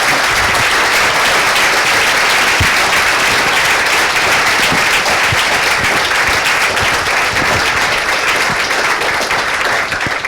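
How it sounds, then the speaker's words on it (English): A loud, steady round of applause fills a conference hall as the audience claps for a panel after a Q&A session, dense and sustained throughout with no talking. "please give a round of applause to the panel and to Dean"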